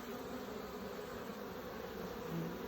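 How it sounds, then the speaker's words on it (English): Honey bees foraging catkin pollen on a mild early spring day fill the air with a steady, dense buzzing hum that holds at an even level throughout. "the air is just full of bees and buzzing at the moment"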